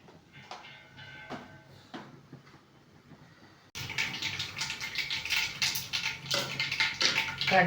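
Mustard seeds spluttering in hot oil in a pan while cooking beef perattu, quiet crackles at first, then a sudden louder, dense hissing crackle that keeps building.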